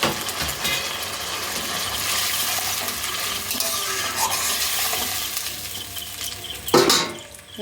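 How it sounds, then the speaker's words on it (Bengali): A little water poured into a pan of frying koi fish, a hissing, bubbling wash of sizzle that runs steadily, with a louder splash and clatter near the end. "অল্প একটু জল দিয়ে দেবো"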